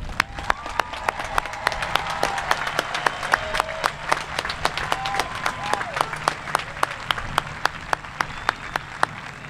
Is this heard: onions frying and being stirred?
no